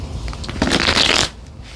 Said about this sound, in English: So now I'll just pull a few cards to tie it together.